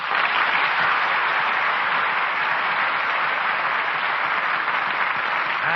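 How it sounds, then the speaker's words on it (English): Radio theater audience applauding at a curtain call for the performers, a dense, sustained wash of many hands clapping that holds steady throughout. "that applause will assure you both how much we enjoyed tonight's performance"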